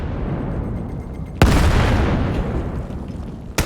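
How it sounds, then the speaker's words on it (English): Grenade detonation in the Vail shooter during a competitive playoff match: one sharp, loud blast with a rumbling tail over steady background game noise, and another sudden hit right at the end. "Nades coming in. Both teams throwing nades everywhere."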